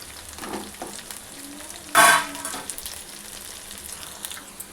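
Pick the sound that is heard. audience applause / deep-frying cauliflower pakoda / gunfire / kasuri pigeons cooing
deep-frying cauliflower pakoda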